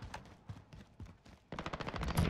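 Bursts of gunfire from a weapon in the Modern Warfare video game, scattered single shots at first, then a rapid, louder sustained volley near the end.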